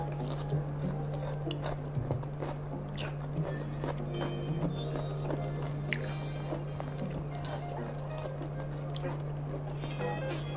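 Crisp crunching and chewing of fried kremesan batter crumbs eaten with rice and sambal terasi, a steady run of close bites over a constant low electrical hum.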